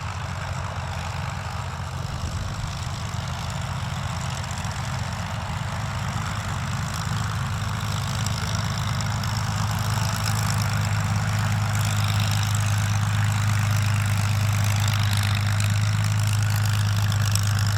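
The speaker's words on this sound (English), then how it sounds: "I don't know what's better than one Rolls-Royce Merlin engine." Twin Rolls-Royce Merlin engines of a de Havilland Mosquito FB Mk 26 warbird run steadily, a continuous deep droning rumble that grows slightly louder and fuller over the stretch, with no voices.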